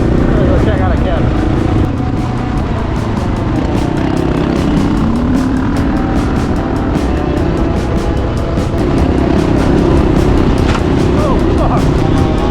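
KTM 690 dual sport motorcycle on a ride toward a wash and a cabin, its engine droning loud and steady the whole time with rumbling, rushing wind noise and no clear speech.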